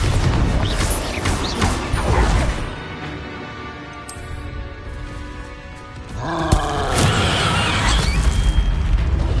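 A Bombarda blasting spell explosion in Hogwarts Legacy, a loud rumbling roar that fades, then a sharp blast around the midpoint with dense crashing debris that rings on.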